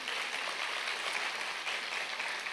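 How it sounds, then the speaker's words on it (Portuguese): Audience in a church clapping together, a dense, steady wash of applause at moderate distance that holds evenly with no voices over it. "pode aplaudir"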